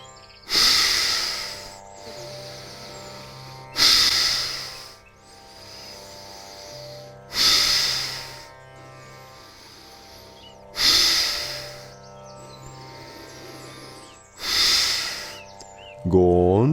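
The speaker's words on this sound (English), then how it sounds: "exhale forcefully again through your nostrils" Forceful nasal breaths during a guided meditation exercise, five sharp bursts spaced about three seconds apart, each a loud hissing snort that fades, with quieter breathing between and a low hum underneath.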